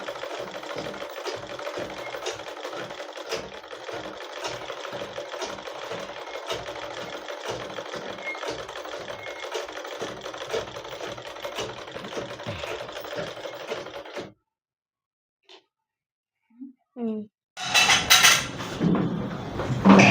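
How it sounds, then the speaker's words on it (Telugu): A sewing machine runs steady straight stitches under foot-pedal control, a fast even whir and clatter for about fourteen seconds, then stops, followed by a few faint clicks and louder handling noises. "ముందు ఇది కింద పెడలు నీ వైపు తొక్కుతుంటే స్ట్రైట్ స్టిచ్చింగ్ వస్తుంది."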